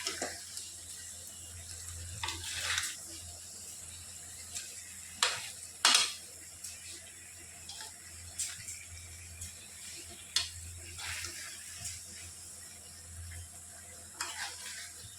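Stuffed bitter gourds (karela) fry in a pan with a soft, continuous sizzle, broken by scattered scrapes and clicks of a spatula as the pieces are turned, fairly quiet and close.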